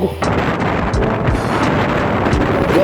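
Strong wind on a mountain trail blasts steadily across the microphone, a loud, unbroken roar with buffeting gusts throughout.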